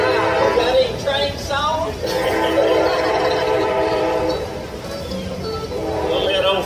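A passing train at an outdoor bluegrass and gospel festival in Smith Grove, 2018, rumbles steadily for several seconds with a horn-like tonal wail, loud and close, while people talk over it.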